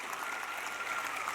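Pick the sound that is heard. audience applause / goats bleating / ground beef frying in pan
audience applause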